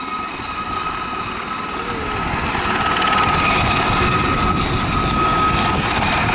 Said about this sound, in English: The distinctive high-pitched whine I referred to a little earlier there is caused by the compressor intake system at the front of the engine.